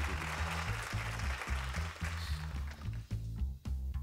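Studio audience at a game show applauding, a steady broadband clatter of many hands filling the whole stretch over a low rhythmic music bed, moderately loud and continuous, thinning slightly toward the end.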